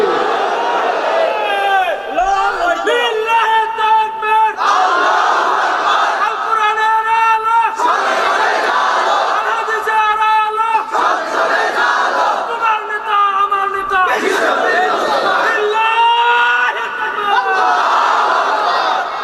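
A large crowd at a Bengali Islamic sermon gathering shouts takbir in unison with raised hands, loud repeated chanted calls rising and falling in waves, alongside a leading voice.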